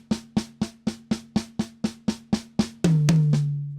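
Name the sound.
drum diddles on snare with single strokes on toms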